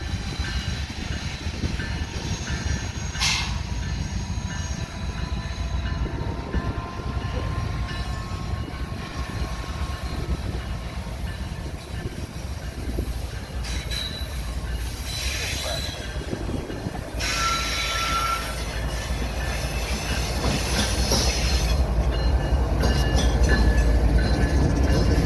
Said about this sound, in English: NS-284, the counterpart to NS-283, would roll through Decatur behind a trio of BNSF GEVOs